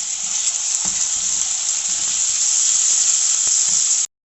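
Onions frying in a pan for an egg karahi give a loud, dense, continuous sizzle with faint stirring taps, cutting off abruptly at the end.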